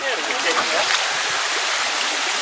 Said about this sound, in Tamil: இதுதான் அந்த தேர்ட் ஃபால்ஸு